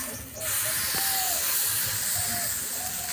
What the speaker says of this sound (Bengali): এবার আমি সুজির ব্যাটার দিয়ে দেবো